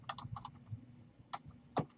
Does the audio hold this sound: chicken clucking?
no